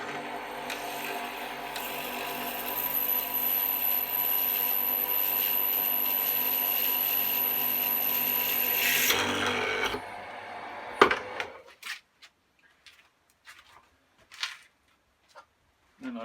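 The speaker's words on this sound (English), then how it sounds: "And you just got to drill them out like so" Drilling out chrome-plated brass rivets during a narrowboat fit-out: a steady close drill whir for about nine seconds, ending with a grinding burst, then scattered clicks and handling knocks as it stops.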